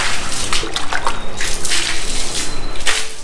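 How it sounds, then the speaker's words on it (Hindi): Water is poured and splashed across the floor while a small rented room is cleaned, making a continuous, loud, close rush of splashing and trickling with no talk. "मैं अंदर तब तक पानी डालता हूँ।"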